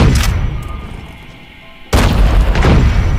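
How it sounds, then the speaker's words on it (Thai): Grenade explosions in the shooter game Call of Duty Mobile: a loud boom, a decaying rumble, then a second heavy blast with debris and crackle, close and loud with no voices. "ระเบิด ระเบิดหลังมา"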